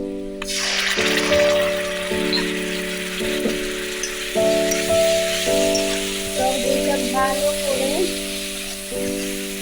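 Sour yogurt tipped into a hot pan of prawns sets off a loud, steady sizzle and crackle that holds throughout, with a spoon stirring and occasional scraping on top.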